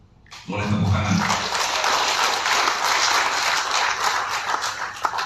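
A political speech audience breaks into applause, a sudden dense burst of clapping that starts abruptly and continues loud and sustained for several seconds, with a few cheers and voices underneath.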